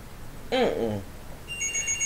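Telephone ringing in a home, a short electronic ring tone entering near the end after a brief burst of someone talking, moderately loud against quiet room tone.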